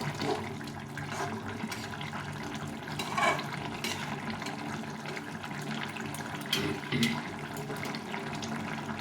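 A pot of bata fish curry with tomatoes, cauliflower and potatoes simmers at a boil, giving a steady, watery bubbling that runs evenly throughout without any talking.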